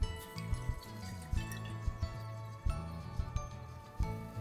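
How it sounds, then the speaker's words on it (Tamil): Half a cup of milk is poured into a container at home while making naan, a soft trickling splash with faint clinks, fairly quiet and close, with no talking. "1/2 கப் பாலை விட்டுறேன்"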